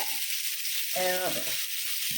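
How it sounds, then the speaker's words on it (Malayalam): Fish frying in a pan with masala, a steady sizzle of hot oil running throughout, briefly swelling with a louder crackle midway. "വറുക്കാൻ വെച്ചിട്ടുണ്ട് അങ്ങനെ വറുത്തെടുക്കാം കേട്ടോ"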